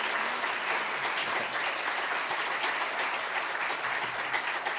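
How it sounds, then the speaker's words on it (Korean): A church congregation at a Korean Sunday worship service gives steady, dense applause that fills the room evenly for several seconds with no speech over it. "박수로 한번 격려하겠습니다."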